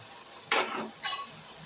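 Salt being stirred into a simmering fish curry, with two short scraping strokes of a spoon over a soft, steady sizzle, close by and without talk.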